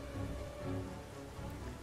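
Rain falls during a battle in the Medieval Kingdoms 1212AD video game, a faint, steady wash of patter with no breaks, soft and distant throughout.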